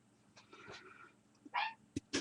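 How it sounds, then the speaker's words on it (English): A pet dog, a she, gives a few short sharp barks and a whimper indoors, close by and fairly quiet, with soft breathing and small handling noises between them. "what is she barking about?"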